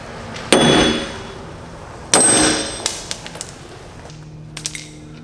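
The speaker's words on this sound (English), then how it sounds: "hammer out the old studs on the hub and install the new ARP extended studs" Two heavy metallic hammer strikes hammering old studs out of a drift car's wheel hub ring out close by, each leaving a long ringing decay, followed by a few lighter taps.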